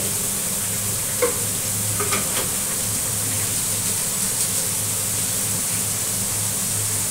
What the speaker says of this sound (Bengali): তো এই যে একটু নাড়াচাড়া করে ঝিঙাটাকে একটু মজিয়ে নিচ্ছি